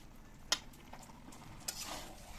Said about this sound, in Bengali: ভালো করে এইভাবে নেড়ে নেড়ে পুরো মশলাটা মাংসের গায়ে মাখিয়ে নেব